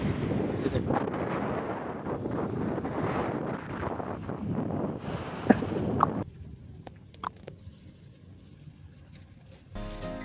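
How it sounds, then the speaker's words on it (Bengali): Strong sea wind at a Sri Lankan shore buffets the microphone in loud gusts for about six seconds, then drops to a quieter roar with occasional sharp knocks. "সাগর পারে প্রচণ্ড বাতাস বইতেছে যার কারণে অনেক ঢেউ"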